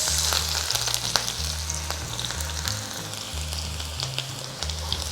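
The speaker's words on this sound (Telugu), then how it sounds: "సన్నగా తరిగిన ఉల్లిపాయలు వేసి ఇవి కూడా బాగా వేపుకోండి ఓకే ఇవి వేగుతూ ఉన్నాయి" Thinly sliced onions fry in a pan for mushroom rice, giving a steady close sizzle and crackle with scattered pops over a low hum and no talking.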